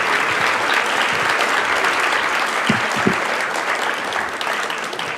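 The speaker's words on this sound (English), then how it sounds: "please join me in giving a resounding round of applause to all of the award recipients and to all those who were nominated as well" Sustained audience applause for award recipients at the 2023 Kroc School of Peace Studies graduation ceremony: loud, dense, even clapping from a large crowd that fills the whole stretch, with a couple of brief low thumps near the middle.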